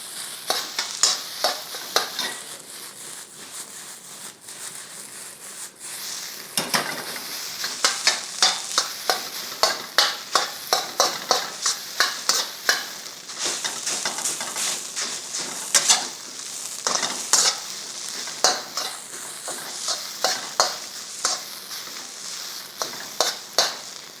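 Egg fried rice being stir-fried in a pan, a steady sizzle punctuated by rapid rhythmic scraping and tossing strokes of a utensil, close and loud, with no voices.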